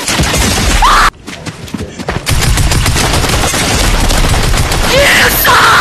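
Gunfire in the Fortnite VR video game: loud, dense automatic bursts with rapid repeated shots that almost fill the stretch, broken by a brief lull near the start.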